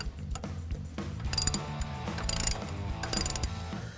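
Steeda underdrive pulley bolt being tightened with a ratchet on a 2001-2004 Mustang engine, a close, rapid clicking of the ratchet pawl running steadily throughout with a few louder bursts of clicks.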